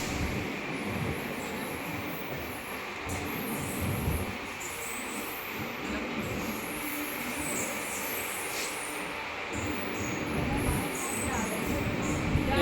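Amrit Bharat Express rolling into Etawah Junction, a continuous rumble of wheels and carriages with high squeals, steady and close, while people speak over it.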